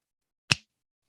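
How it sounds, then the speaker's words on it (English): A single sharp finger snap, close and crisp, standing alone in otherwise silent surroundings. "If I were to snap my fingers"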